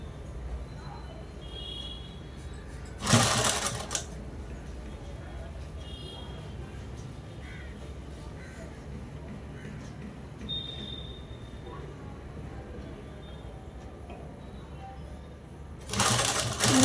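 A sewing machine stitches a blouse in two short loud bursts, one early and one at the end, with quiet room sound in between.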